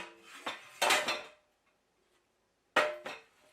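Sliced eggplant dropped into a pan, heard as a few close clattering knocks and scrapes in two short bursts separated by a silent pause, with no voices.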